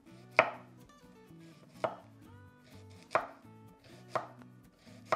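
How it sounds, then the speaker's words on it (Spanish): A knife slices an onion into half-moons on a cutting board, five crisp, evenly spaced chops about a second apart, close and clear against a quiet background. "La cebolla, esta la vamos a partir por mitad y la vamos a hacer en medias lunas"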